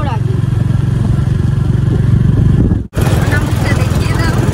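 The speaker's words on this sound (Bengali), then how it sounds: "ভোর 5টার সময় বাইক রাইড, আর সেটা নিয়ে ব্লগ" A Royal Enfield motorcycle rides at dawn with a steady close engine thrum that drops out briefly partway, then resumes.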